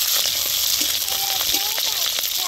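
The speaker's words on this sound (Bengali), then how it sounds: "কাঁচা লঙ্কা পেঁয়াজ হালকা করে ভেজে নিচ্ছি" Chopped onion and green chilli fry in hot mustard oil with whole cumin, a dense continuous sizzle close up, with a few light stirring scrapes.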